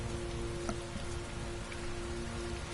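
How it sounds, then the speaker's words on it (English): Rain falling in the video game Heavy Rain, a steady, even hiss of downpour with a faint underlying tonal hum and no talking. "Heavy rain. It's been the same for weeks."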